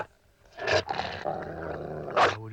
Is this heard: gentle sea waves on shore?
no